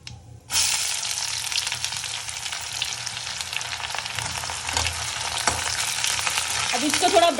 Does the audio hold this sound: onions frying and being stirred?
yes